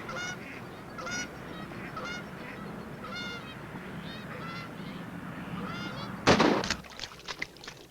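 A flock of geese honking repeatedly at a distance, calls overlapping, then a sudden loud bang followed by sharp rattling clatter.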